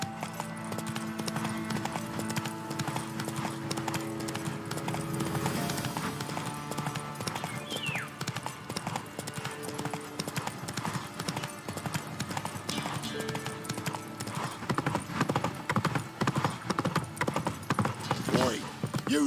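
Roach the horse gallops in The Witcher 3, with steady clip-clop hoofbeats running beneath a dense game soundtrack and ambient noise, and a short voice line near the start.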